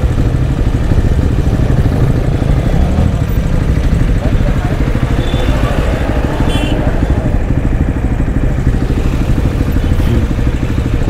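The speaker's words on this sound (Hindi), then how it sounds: "डट बाइक हो डट बाइक" Dirt bike motorcycle engines on a group jungle ride from Kathmandu to Godawari, a loud, steady, rumbling engine drone running throughout with some clatter, and voices talking over it.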